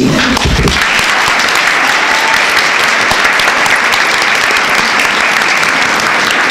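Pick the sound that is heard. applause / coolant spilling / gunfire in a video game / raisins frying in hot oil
applause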